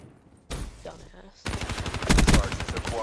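Video game gunfire comes in rapid bursts of sharp shots, loud and close, first briefly and then as a sustained volley, with faint voices beneath.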